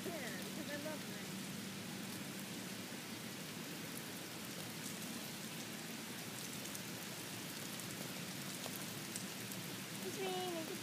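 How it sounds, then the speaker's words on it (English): Steady rain falls continuously and evenly across the whole stretch, a dense hiss of drops striking surfaces close by, with no voices over it. "It's raining, it's raining, it's raining, it's raining"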